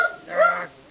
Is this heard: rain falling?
no